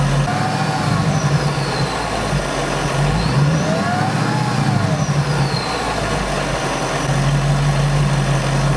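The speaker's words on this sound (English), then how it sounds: "I want to rev the car up a little bit and try it again" Car engine being revved during a coolant system check, idling steadily and rising into several smooth revs that climb and fall back, loud and close with no talking.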